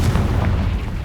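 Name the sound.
Confringo blasting spell in video game Hogwarts Legacy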